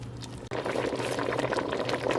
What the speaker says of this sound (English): So you can see here, it's just a very liquidy bubble.